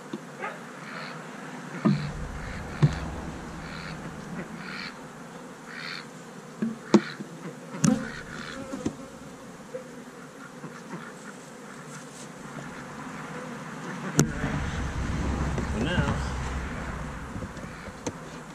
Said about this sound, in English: We got bees everywhere. Trying to come home.